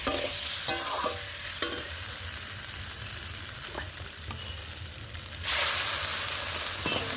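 Fish curry masala sautéing in a pan with an egg added, a constant crackling sizzle punctuated by a few sharp utensil knocks, then a louder burst of hissing near the end; no speech.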